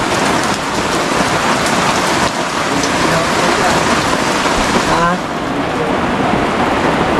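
Heavy rain pounding steadily on surfaces outdoors, a loud dense continuous wash with no pauses, close and dominant throughout.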